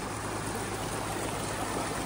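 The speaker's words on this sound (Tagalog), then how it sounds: "Lakas ang ugong ng tubig eh." Floodwater rushes steadily in a swollen Philippine river during a typhoon, a loud, unbroken broadband roar with no voices and no pauses.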